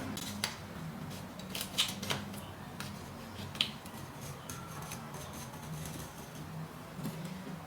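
A utility knife blade cuts through thin wood veneer in a series of short, crisp ticks and scrapes, close and moderately quiet over a low background hum.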